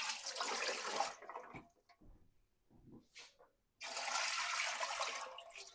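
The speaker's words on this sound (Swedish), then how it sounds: "Jag fyller den med 3 liter vatten." Water pouring and rushing as a Presto pressure canner is filled with three liters of cool water, two loud splashy bursts with a quieter gap of small trickles between them.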